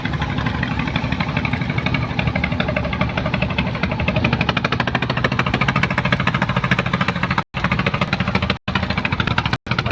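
A motor boat's engine chugs steadily and loudly across the Buriganga river at Jinjira, Dhaka, a close rapid rhythmic thudding with brief dropouts near the end.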